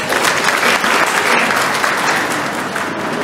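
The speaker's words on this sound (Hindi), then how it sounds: "उस नानी के लिए तालियां बजाओ" An audience at a pre-primary school Grandparents Day celebration bursts into continuous, even applause, a loud wash of many hands clapping without pause from start to finish.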